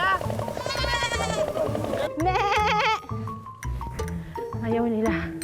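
Goats on a farm bleat repeatedly in loud, wavering cries close by, overlapping one another while people talk and call out around them.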